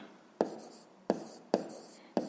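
Pen strokes on paper while a fifth-grade math problem about a triangle's perimeter is written out, four short separate scratchy strokes, close and fairly quiet, each starting sharply and fading.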